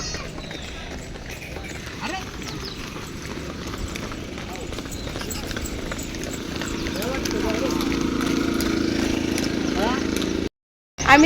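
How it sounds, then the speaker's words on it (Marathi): Bullock carts roll along a road, hooves clopping in a steady rhythm over a continuous rumble of wheels, with voices talking over the passing carts. "आम्हाला मस्त अशा 3 बैलगाड्या दिसल्या भारी, हन्नम बैलाच्या"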